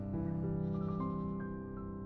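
A goat bleating, one loud drawn-out wavering call close to the listener, lasting about two seconds and fading at the end.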